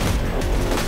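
Gunfire in the video game Borderlands 2 during a fight, a dense, continuous burst of rapid shots with heavy low rumble and no pause across the short moment.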